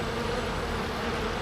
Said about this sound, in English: monster bee!